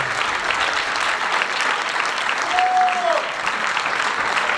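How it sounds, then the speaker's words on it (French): Steady audience applause fills a ceremony hall for a student event, dense continuous clapping without breaks, with a brief whistle-like tone rising above it partway through. "applaudissez-les bien fort"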